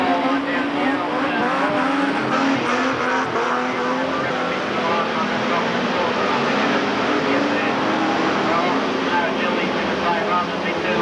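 Saloon race cars roar around a speedway in a state ladies' title race, with engines at a continuous loud drone throughout and a commentator talking over the noise.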